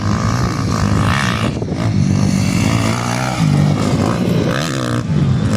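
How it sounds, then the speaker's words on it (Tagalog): Motocross motorcycles, including a Kawasaki KLX, race around a track with loud, continuous engine roar that rises and falls with revving and shifting, close by throughout. "lakas talaga ng motor ni Ading din."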